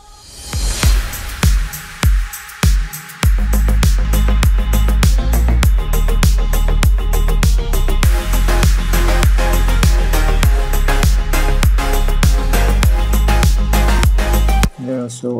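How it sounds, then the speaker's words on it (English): A full house drop with a steady four-on-the-floor kick, dense layered synths and choppy vocal fragments filling out a wide, loud mix. "But with the ambient vocal chops, it just becomes more wider"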